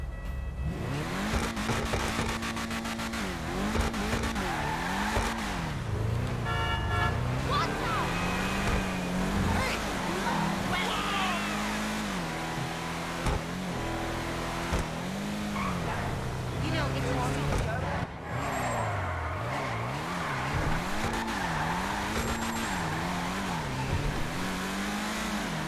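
In-game engine of a favourite vehicle in GTA 5 Online, a loud continuous revving drone rising and falling through gear shifts, with occasional tire squeal, running steadily throughout with no talk.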